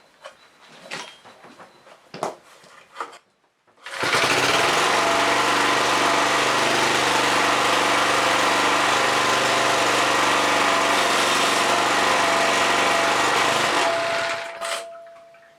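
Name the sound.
rototiller engine starting and running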